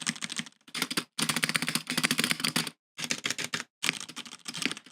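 Fast typing on a mechanical keyboard with Cherry switches, a dense rapid clatter of loud, close keystrokes in bursts separated by brief pauses.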